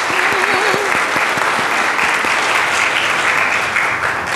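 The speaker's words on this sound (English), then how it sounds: "Let's give Lee a hand" An audience gives a loud, sustained round of applause for a performer, the clapping dense and steady throughout, with a voice briefly audible at the start.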